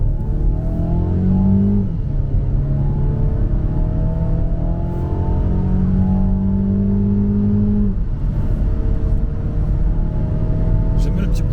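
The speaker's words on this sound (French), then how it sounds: "J'aime bien le petit bruit de moteur." A Mercedes A200 AMG-Line hatchback accelerates hard in the cabin, its engine note rising through the gears with a brief dip near two seconds and another around eight, steady and loud throughout, with occasional voices.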